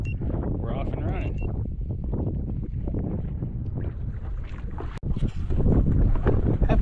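A fishing boat moves across Stockton Lake under a small electric trolling motor, a steady low hum mixed with wind buffeting the microphone, while someone talks over it nearby.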